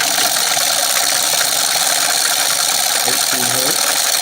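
A 3-phase spinning magnet rig runs with a loud, steady whirring hum and a rattling mechanical buzz, with brief warbling tone changes near the end.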